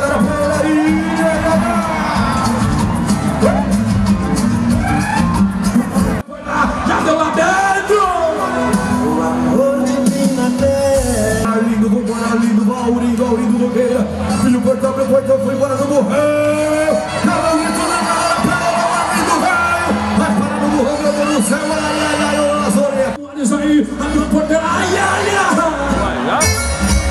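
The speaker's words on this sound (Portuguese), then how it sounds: "Cadê o grito da galera pela ilha?" A crowd yells, whoops and cheers at a donkey riding rodeo event, a loud continuous roar of hubbub with an announcer talking over it nearly throughout.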